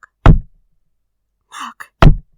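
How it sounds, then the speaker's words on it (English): Knocking on a bedside table in an audio drama: two separate dull, close knocks with a short scraping rustle between them, sharp onsets in an otherwise silent room. "I heard it on my bedside table. Knock, knock,"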